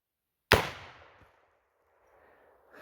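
A single loud, sharp report from a Remington 1858 New Model Army .44 revolver loaded with real black powder, fired at a soda bottle, cracks once and fades into a short decaying echo.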